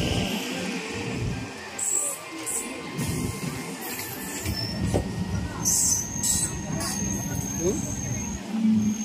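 A train stands and moves at a railway station, its rumble and high wheel squeals mixing with platform bustle, while people talk throughout close by.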